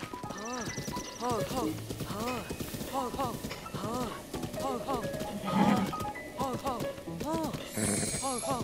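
Horse hooves clip-clop in a steady rhythm in the video game Zelda: Breath of the Wild, with a brief neigh, heard under nearly continuous talking by a man.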